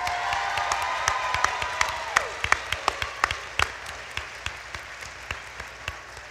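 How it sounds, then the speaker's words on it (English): A school-district crowd applauds its bus drivers, starting as a dense burst and thinning to sparse, rhythmic individual claps that fade toward the end. "How about we give a round of applause for all of our bus drivers in this school district?"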